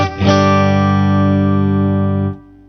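A custom S-style electric guitar plays one sustained chord through the clean channel of a Laney VH-100R amp, rich in harmonics, loud and close, ringing steadily for about two seconds before cutting off.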